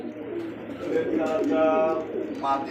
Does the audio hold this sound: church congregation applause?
no